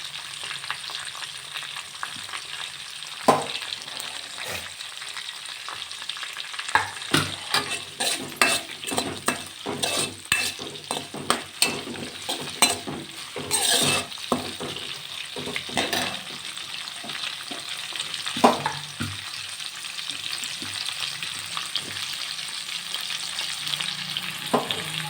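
Onion frying in a pan for rava upma, a steady soft sizzle with repeated spoon stirs and scrapes scattered throughout, close and moderate in level, with no talking.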